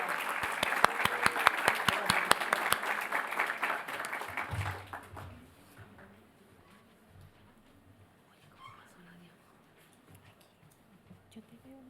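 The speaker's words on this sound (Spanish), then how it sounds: "le damos un aplauso" A seminar audience claps to welcome a speaker: several seconds of loud, crisp applause that thins out and fades, leaving a quiet room with faint rustling.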